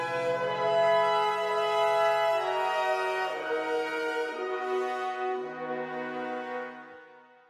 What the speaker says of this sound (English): A pre-delay will produce a slapback sound like this.